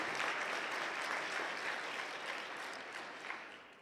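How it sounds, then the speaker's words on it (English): Audience applause at a Moth storytelling event: dense, steady clapping from a large crowd that fills the room, holding strong before tapering slightly toward the end. "Just give it a round of applause for you all."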